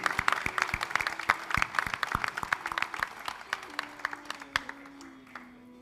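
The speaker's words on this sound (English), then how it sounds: "a big round of applause for the proud sister, please" Wedding guests clap for the proud sister, sparse individual claps forming an uneven, fading patter over a sustained musical drone, with a voice talking along the way.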